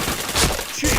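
Rapid gunfire from a video game, a dense crackling burst of shots lasting about a second, loud and close with little pause.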